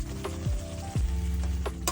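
Green peas sizzle and fry in a spiced masala with ginger, a steady crackling hiss broken by a few stirring scrapes, close and fairly loud with no talking.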